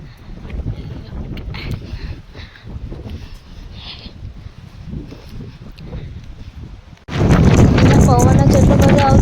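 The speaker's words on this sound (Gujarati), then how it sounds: "પવન જેટલો બધો આવતો હતો ને પિન્ટુભાઈની ટોપી જાતે પહેરાતી હતી" Gusty wind blows over the mic during a rainy outing, with low rumbling buffets and some voices, then a sudden much louder, steady roaring blast of wind noise takes over for the final two seconds.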